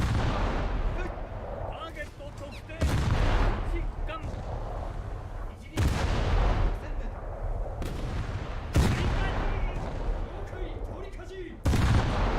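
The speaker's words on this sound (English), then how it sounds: "The other one is shooting me, I think." Ship guns fire in a low-tier naval video game, four heavy booming shots spaced a few seconds apart over a constant rumbling background, each blast loud and sudden; a player talks at times.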